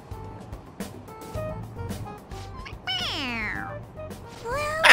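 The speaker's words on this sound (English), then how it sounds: "It's a stuffed animal. Yeah, it's just a toy. It meows when you press on its head." Stuffed toy cat meowing when its head is pressed in Persona 5 Royal, with a near, clear meow rising midway and another starting at the end over quiet background noise.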